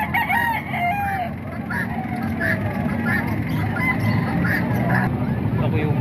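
Roosters crow repeatedly at a chicken market in Calumpit, their calls rising over a busy steady background of crowd noise and voices.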